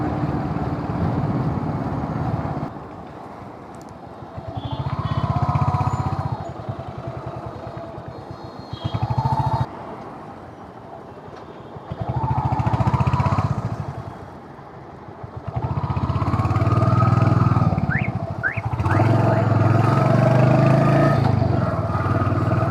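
A motorcycle rides along a road in Kashmir, its engine droning close and loud, swelling and easing in waves as it accelerates and slows, with passing traffic and occasional horns.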